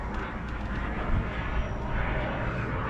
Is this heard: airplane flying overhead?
yes